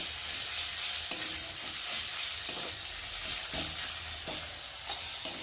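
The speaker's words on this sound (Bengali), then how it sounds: "রসুনটা একটু ভালো করে ভেজে নেব" Garlic fries with onion and chili in hot oil, a loud continuous sizzle with a spatula stirring at intervals, close up and with no talking.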